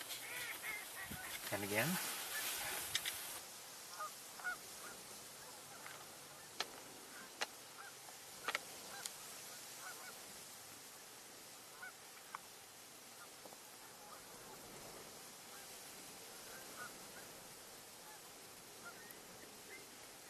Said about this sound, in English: looks like it's mostly Canada geese and northern pintails